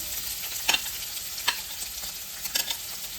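Two onions frying in hot oil for paneer butter masala make a soft continuous sizzle with a few sharp crackles and stirring clicks, close and without talk.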